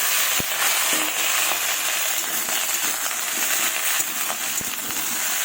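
Cauliflower, potato and tomato vegetables hitting hot oil in a pan with browned chopped onion and tempering spices: a steady close sizzle and crackle throughout, with occasional small pops and scrapes and no talking.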